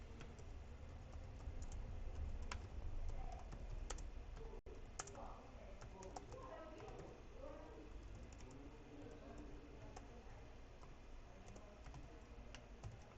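Steady typing on a computer keyboard, quiet and close, with rapid irregular key clicks running throughout and birds cooing faintly in the background.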